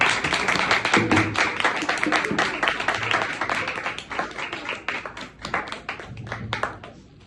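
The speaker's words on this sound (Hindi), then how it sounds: "आप सब की जोरदार तालियों में हम उन्हें वेलकम करते हैं" Church audience in Karachi clapping loudly to welcome a visiting evangelist from the UAE, a dense crackle of many hands that stays strong and then slowly tapers toward the end.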